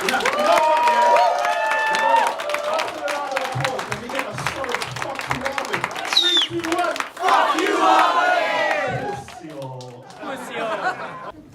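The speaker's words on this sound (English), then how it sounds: "Let's give one more round of applause" A spoken word poetry audience cheers and whoops with scattered clapping, loud excited voices rising and falling in bursts before the noise thins out near the end.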